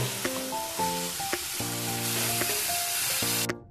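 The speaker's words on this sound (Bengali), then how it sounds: "আদা রসুন টমেটোর একটু কাঁচা গন্ধটা যাওয়া অবধি আমি একটুখানি ভেজে নেব" Ginger, garlic and tomato sizzle in a pan while a spatula stirs them, a constant frying hiss carrying through with intermittent scraping strokes and a faint tonal hum behind, close and without speech.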